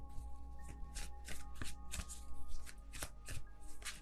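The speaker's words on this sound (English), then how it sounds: "I'm just gonna wait until it feels right and then take out all of the cards at once" A deck of tarot cards is shuffled by hand, giving repeated riffling, slapping bursts in a steady rhythm, close and clear, with no talking during the shuffle.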